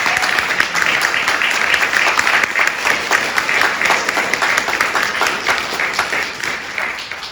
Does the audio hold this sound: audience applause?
yes